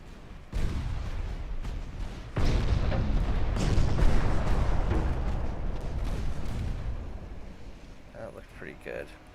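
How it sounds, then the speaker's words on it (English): Heavy naval guns boom from warships in the strategy game Ultimate Admiral Dreadnoughts, with loud blasts around 0.6 and 2.4 seconds rolling into a long rumbling tail that fades toward the end. "Let's fire our guns right into you."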